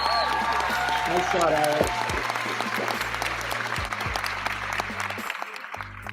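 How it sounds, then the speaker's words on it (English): A crowd applauds steadily for a long shot at a portable 9-foot pool table during a match, the clapping sustained and dense throughout while a nearby voice briefly talks over it. "We got to give him a round of applause."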